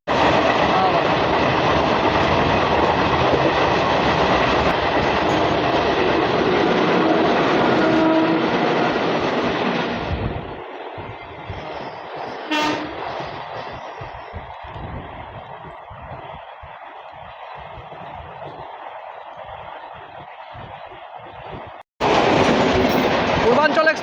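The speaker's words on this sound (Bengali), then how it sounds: "পূর্বাঞ্চল এক্সপ্রেস।" The Purbanchal Express roars past alongside a moving Rampurhat–Bardhaman MEMU local, a loud, dense rush of wheels and wind for about ten seconds, then fading to a steadier rolling rumble with rhythmic clatter before a sudden burst of noise at the end.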